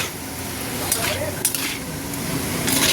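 Vegetables for white chow mein fry in salted oil in a pan, a steady sizzle with a few brief scrapes of a stirring utensil, fairly close and moderately loud with no talk.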